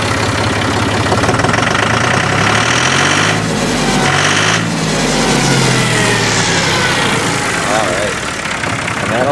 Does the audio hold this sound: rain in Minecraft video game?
no